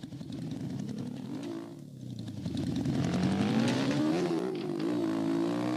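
A Honda Fan motorcycle with a quiet exhaust in a Brazilian motorcycle video game hums steadily, dips briefly, then revs up with a rising, buzzing engine tone that holds loud near the end.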